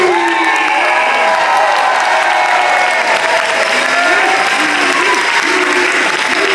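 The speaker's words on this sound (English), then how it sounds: "Another round of applause for Blue Scuti!" A crowd at a Classic Tetris tournament claps loudly and cheers, with whoops and shouts over sustained applause at close range.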